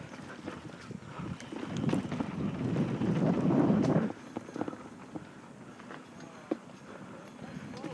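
A Brand-X HT-01 27.5-inch hardtail mountain bike rides over local dirt trails, with rattling, clattering chassis noise and crunching ground under steady wind buffeting on the microphone, loudest in the first half and then quieter with scattered knocks.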